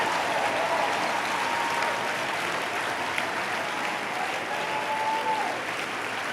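A church congregation claps continuously in a dense, even wash of applause lasting several seconds, with a faint voice briefly audible over the clapping.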